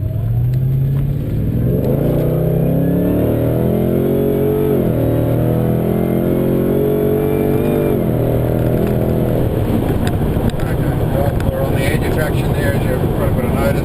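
A Holden VE Senator tuned to about 650 rear-wheel horsepower with an automatic gearbox accelerates hard under throttle, the engine note climbing steadily through revs with a gear change partway through, loud and close, with voices talking over it.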